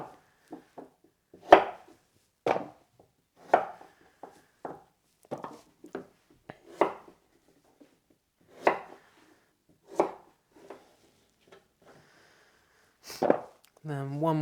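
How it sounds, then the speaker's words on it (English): A knife chops vegetables into rough, evenly sized chunks on a board during Sunday meal prep, giving a series of distinct, close, crisp cuts at an irregular, unhurried pace, with a louder clatter near the end. "I'm just going to cut it into chunks roughly the same size as my other vegetables"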